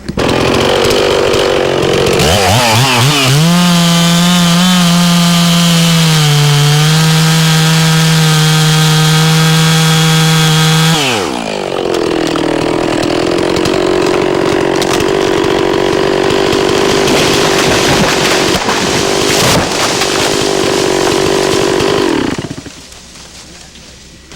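A chainsaw revs loudly and bites into a standing tree during a felling cut, its pitch steady under load before dropping as the cut changes, then running on until it winds down near the end.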